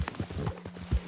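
Horse hooves clip-clop in the Red Dead Redemption 2 video game, with several quick, close hoof beats in an uneven trotting rhythm over a faint low hum.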